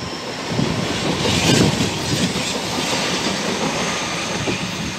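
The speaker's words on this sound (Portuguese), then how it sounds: "Gente, vai passar o trem." A train rolls past close by, a steady loud rumble with rhythmic clatter of wheels on rails swelling and holding throughout, with no talk over it.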